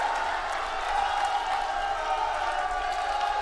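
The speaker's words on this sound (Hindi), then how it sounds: "ताली बजाओ अरविंद जी के लिए जोर से" A large crowd at an outdoor political rally in Jhajjar, Haryana applauds a candidate, a dense, continuous wash of clapping and cheering from many people that holds steady throughout.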